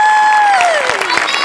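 Audience applause at a Marathi comedy stage show, a dense crackle of many hands that rises beneath a loud descending whistle-like sweep and carries on steadily to the end.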